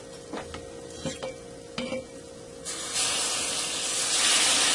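A few scraping stirs of a flour mixture with hot water in a pot, then a rising hiss of steam or sizzling builds and continues to the end.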